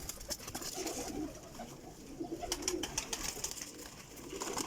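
Several domestic pigeons in fresh plumage coo softly on a rooftop, repeated low, burbling calls rising and falling against light background noise.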